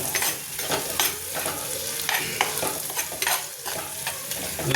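Small tomatoes fry in a pan for a Kerala dried-fish curry, a close sizzle broken by repeated scraping stirs of a spoon in an uneven rhythm.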